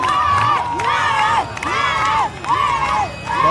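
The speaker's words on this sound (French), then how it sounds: "La population congolaise est en train d'applaudir pour les Wazawaza." A large crowd in Kamituga cheers loudly in repeated rising whoops and shouts, close and energetic, surging in waves every second or so.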